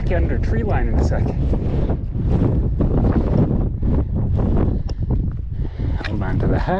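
Strong wind buffets the microphone in a constant loud roar on Franconia Ridge, New Hampshire, above tree line, with a person's voice faintly mixed in underneath.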